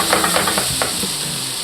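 Cherry tomatoes drop into a pan of onions with their juices, giving a steady close sizzle with a few stirring scrapes and clicks near the start, alone with no talk.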